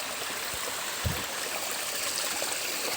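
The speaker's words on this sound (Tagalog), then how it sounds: "Nasa sapa po kami." Creek water flowing over rocks and gravel in a mountain stream, a steady close rushing and trickling wash with a few small splashes and no voices.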